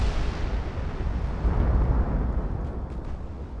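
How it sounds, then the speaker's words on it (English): Battleship shells landing in the naval warship game Ultimate Admiral: Dreadnought, a continuous loud rumbling roar of deep booming impacts that swells slightly midway and stays dense throughout, with no talk. "More shells coming in from the battleships all the way over there."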